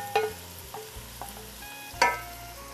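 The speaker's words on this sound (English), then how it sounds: "We will just blend everything together, just like that" Sautéed onion and garlic being stirred into a mixture, a few soft scrapes and knocks of a spoon against a bowl or pan, with one firmer clatter near the end over a low background hum.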